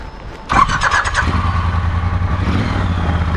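A manual motorcycle starts up and settles into a loud, close, burbling idle, with the exhaust note carrying a steady throb after a sharp initial catch.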